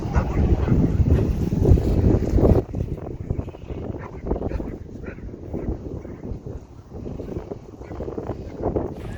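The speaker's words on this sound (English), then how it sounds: "It's windy out here right now." Strong wind at Lake Isabella buffets the microphone with a continuous low roar and gusty rumble throughout.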